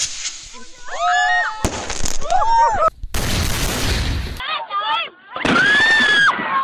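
Illegal fireworks going off in several bursts of incident footage, loud crackling blasts and bangs alternating with whistling, screaming rockets and shouting voices across the whole stretch.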